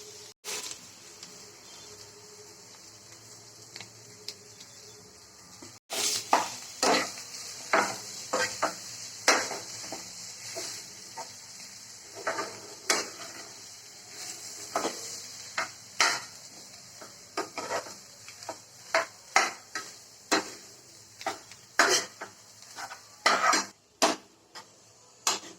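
A utensil mashes and stirs boiled potatoes in a pan for vada pav filling, giving repeated clanking scrapes and knocks against the metal, steady and fairly close after a quieter opening with a faint background hiss.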